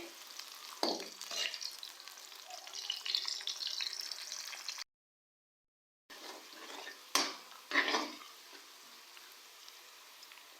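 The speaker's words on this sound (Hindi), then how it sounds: "प्याज को हम लोग गोल्डन कलर आने तक फ्राई करेंगे।" A large onion fries in hot oil in a pan for khichdi, giving a steady close sizzle with occasional stirring scrapes and clatters, broken by a brief silent gap.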